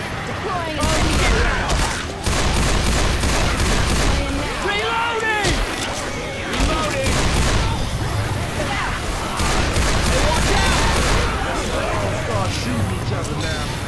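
Rapid gunfire in the Left 4 Dead 2 zombie shooter, dense overlapping bursts and shots that run almost continuously, loud and close, with voices calling out over the fire.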